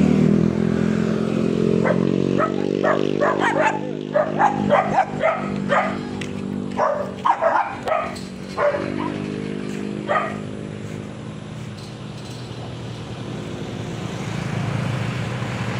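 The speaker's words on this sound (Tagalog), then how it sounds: "May aso nga po pala." A dog barks repeatedly in short bursts over a steady low engine-like hum, then falls quiet while the background drone continues.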